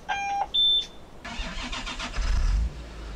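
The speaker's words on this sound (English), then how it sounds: "I will start the engine and see if it's working or not." Inside Farming Simulator 2015, a Belarus tractor gives a few short electronic beeps, then its engine cranks, catches and rumbles into a steady low idle, heard close and alone.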